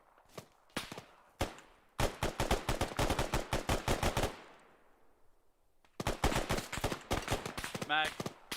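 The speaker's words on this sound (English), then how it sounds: "Taking sniper fire." Sniper and automatic gunfire in the military shooter Arma 3: dense volleys of sharp, rapid shots in bursts, a quiet gap, then another close barrage with a faint voice near the end.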